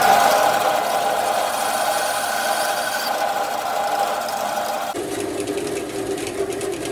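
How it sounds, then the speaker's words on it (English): A bandsaw trims excess recycled plastic off a homemade mallet head, a steady close whine and buzz of the blade cutting that runs throughout and shifts in tone near the end as the cut finishes. "So now I'm gonna go back to the bandsaw and trim off this little bit of excess."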